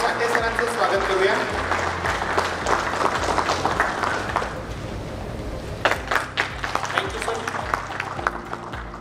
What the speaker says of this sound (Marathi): आपण जोरदार टाळ्यांचा गजर करून आदरणीय साठे सरांचं स्वागत करूया